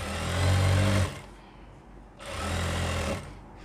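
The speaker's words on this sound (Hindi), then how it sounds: "इसको इस तरीके से खींच के सिलाई लगानी है सेंटर में" A sewing machine stitches the elastic waistband of baby pants in two loud, close bursts of rapid whirring, separated by a short quiet pause, with no talk.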